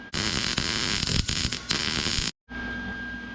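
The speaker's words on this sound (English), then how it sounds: "So I'm going to go ahead and weld it here," An arc welder crackles and hisses loudly while joining steel parts of a swivel campfire grill, a dense buzzing sizzle that breaks off briefly and then resumes.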